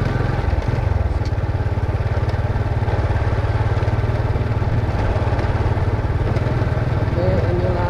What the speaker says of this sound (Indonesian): naik motor siang hari